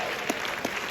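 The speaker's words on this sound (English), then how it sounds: "Give a round of applause" A short burst of audience applause at a Halloween variety show, dense steady clapping with a couple of sharper claps standing out.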